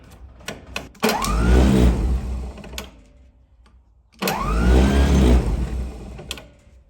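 Starter motor on an Allis Chalmers WD45 tractor, fitted with a swapped Bendix drive, cranks in two loud, close bursts of about three and two seconds, each a whirring grind with a rising whine, separated by a pause.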